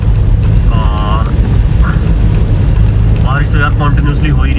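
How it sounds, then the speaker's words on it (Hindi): Steady rain heard from inside a car driving on a highway out of Panipat toward Delhi's Eastern Peripheral expressway, a loud continuous wash with road rumble beneath and a few brief tonal sounds over it. "बारिश तो यार कॉन्टिन्यूसली हो ही रही है, यहाँ पे भी है।"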